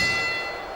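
A wrestling ring bell rings in SmackDown vs Raw 2006, a single sustained metallic tone that fades slowly.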